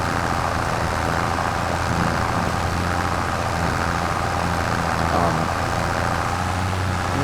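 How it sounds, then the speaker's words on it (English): Four-wheel drive tractor engine running steadily on a farm with its wheels slipping, a continuous loud low mechanical drone throughout. "It's a four-wheel drive tractor and the front wheels are doing most of the work."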